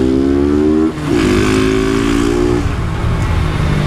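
Motorcycle engine revving hard and climbing through the gears, loud and close, with a brief dip at each shift before the pitch rises again.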